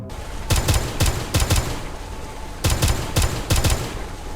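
Pistol fire in the retro horror shooter Vomitorium, loud sharp shots in quick clustered bursts of two or three, repeated in a rhythmic pattern with short gaps, no voices.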